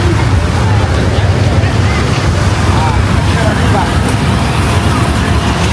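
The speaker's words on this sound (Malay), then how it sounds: "Wow, kuatnya ombak." Strong sea waves at Pantai Padang, a steady loud roar of surf and wind buffeting the microphone with no break, while people talk over it.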